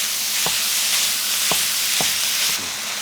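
One pound of 85/15 ground beef sizzles steadily in a hot pan, a loud, constant frying hiss close by, with three sharp knocks of a masher breaking up the meat spaced across it.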